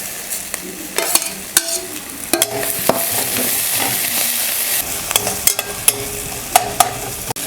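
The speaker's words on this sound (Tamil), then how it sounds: "இப்போ பாருங்கள் வெங்காயம் தக்காளி வதங்கியிருக்கு." Sliced onions and tomatoes fry in a pan for a quick sambar, with a steady sizzle and a handful of sharp spatula clacks and scrapes as they are stirred, close and fairly loud.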